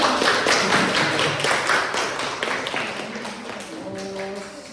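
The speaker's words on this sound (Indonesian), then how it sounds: "Kasih tepuk tangan dulu." Students in an Indonesian classroom clap together after a group reading, a dense burst of many hands that fades over a few seconds, with faint voices near the end.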